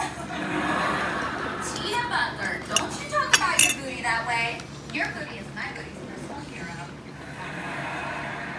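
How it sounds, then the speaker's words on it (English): A fork clinks and scrapes against a cast iron skillet in a cluster of light metallic taps as a first bite is taken, with a soft chuckle and a voice nearby. "Here we go, my first bite off my first cast iron skillet."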